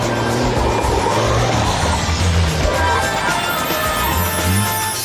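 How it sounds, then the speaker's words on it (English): A car spins donuts on a wet skid pan, its engine roaring loud and close with continuous tyre rush and skidding noise throughout, no clear separate burst standing out. "He's doing the donut! His tyre's gone."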